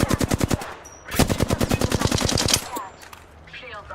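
Video game machine-gun fire: rapid, evenly spaced bursts of loud automatic shots, one short burst then a longer sustained stream, near and punchy, fading into quieter game sounds at the end.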